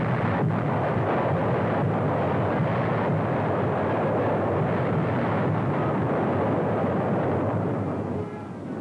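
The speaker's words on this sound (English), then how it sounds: "American Fifth Army artillery hammered back." Artillery fire in wartime battle footage, a dense, continuous roar of heavy guns and explosions rumbling loudly without pause, fading slightly at the very end.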